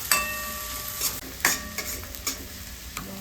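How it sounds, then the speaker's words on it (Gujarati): Finely chopped onions sauté in a pan over medium gas, a soft sizzle broken by repeated scrapes and clacks of a spoon stirring at an uneven pace, close by. "મીડિયમ ગેસ ઉપર આપણે આને સાતળી લેવાની છે."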